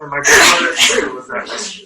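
A single loud, close sneeze bursts out sharply, immediately followed by a person talking.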